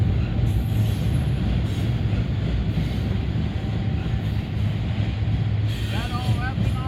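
Freight train of covered hopper cars rolling past, a steady close rumble with faint wheel squeals near the end and no break in the noise.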